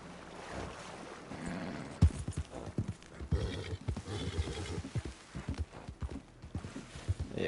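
Steady clip-clop of galloping hooves with an occasional neigh over a low wind-like background, moderately loud and continuous, in Red Dead Online.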